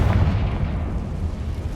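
A fire-blast spell explosion in the Hogwarts Legacy video game, a deep rumbling boom that sustains and rolls on, loud and close.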